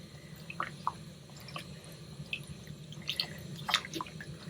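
Fabric lifted from a simmering avocado-skin and pit dye bath drips, a scattering of small, close water drips and splashes over a low background rumble.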